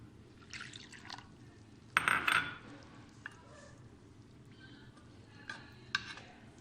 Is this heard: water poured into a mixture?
yes